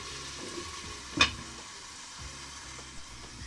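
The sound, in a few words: chicken masala sautéing in a pan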